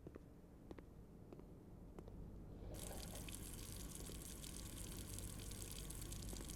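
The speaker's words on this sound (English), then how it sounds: "I now have water flowing here" Water in the video game Blue Prince starts flowing partway through, shifting from a quiet trickle to a steady, full rushing hiss that continues evenly to the end.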